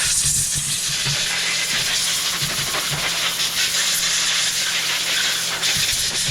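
Aerosol carb cleaner sprays onto a Honda HRR216 mower carburetor in cold weather, a loud, close, continuous hiss lasting the whole stretch with a few faint knocks underneath.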